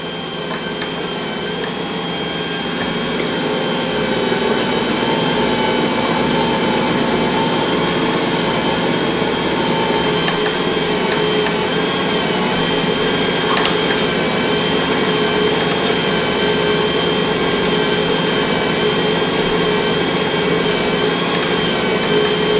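Stand mixer kneading sticky bagel dough at its lowest speed, a steady loud motor drone with a constant hum that runs without a break, no talking.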